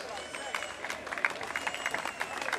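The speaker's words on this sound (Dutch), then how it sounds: "Gaan we dames en heren een nieuw applaus doen op de 3e plaats, de man uit Emmen, Elmar Reinders" Spectators at a junior cycling race in Emmen applaud third-place rider Elmar Reinders, a brisk patter of outdoor clapping and crowd murmur filling the short moment.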